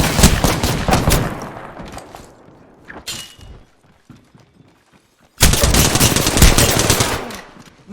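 Gunfire in the video game Apex Legends: dense bursts of rapid automatic shots, loud and close, fading into a sparse lull with a few isolated cracks, then another sustained, intense volley.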